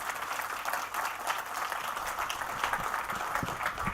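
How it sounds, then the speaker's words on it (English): Audience at a conference applauding the panelists, a steady wash of clapping that fills the room at moderate loudness throughout. "A round of applause for our panelists."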